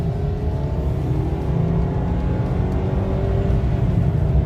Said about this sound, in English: this is how I drive the Bronco every single day, not just for road tests. And we'll just give it gas this one time.